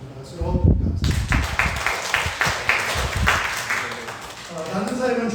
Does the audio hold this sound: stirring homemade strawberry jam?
no